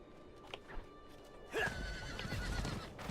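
A horse in the video game Diablo 4 gives a sharp, bright whinny amid faint hoof clops and game sounds, heard fairly quietly.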